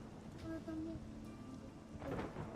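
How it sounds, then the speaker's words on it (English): Thunder and rain fill a thunderstorm in the Monsters & Memories game: steady rain hiss runs throughout, and a louder crack of thunder swells near the end. "Lightning."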